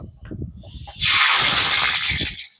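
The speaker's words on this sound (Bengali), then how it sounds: "এবার ফোড়ন দিয়ে দেবো। ফোড়নে আছে কালো সর্ষে, শুকনো লঙ্কা আর তেজপাতা।" A tempering of black mustard seeds, dried chili and bay leaf hits hot oil in a large village-style pot, bursting into a loud, sustained sizzling hiss after a few quieter crackles.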